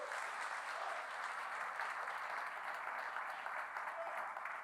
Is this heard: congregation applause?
yes